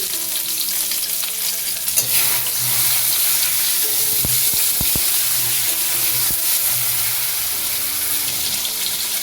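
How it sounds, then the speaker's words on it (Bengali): Potatoes and chopped tomato fry in a pan with a loud, continuous sizzle, broken by a few sharp clinks of a utensil stirring against the pan partway through. "টমেটোটা আলুর সাথে ভেজে নিচ্ছি"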